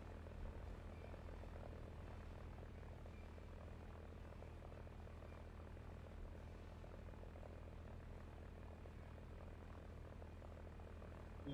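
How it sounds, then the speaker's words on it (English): Enemy aircraft flying in a video game battle, a continuous droning engine hum that stays level and moderately distant throughout, with no other sounds standing out. "Enemy aircraft coming."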